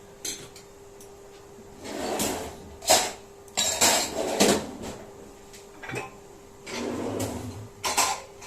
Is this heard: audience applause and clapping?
no